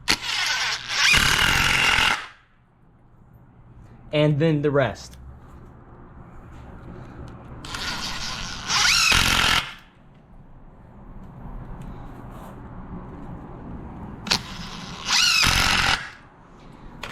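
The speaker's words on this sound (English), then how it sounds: "You're gonna take your drill again," A power drill driving screws whirs in several bursts of a second or two each, separated by pauses, with a person talking briefly between them.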